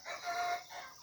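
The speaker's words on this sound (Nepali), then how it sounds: "कुखुरा नि कराउँदैछ।" Chickens sound from inside a rural Nepali farmyard shed, giving a short run of clucking and crowing-like calls that carry for about a second with no one speaking.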